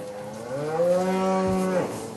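A sick black-haired cow lets out one long, loud, nearby moo that swells and sustains for over a second before trailing off, heard alone without talk; the cow has white patches developing on its coat.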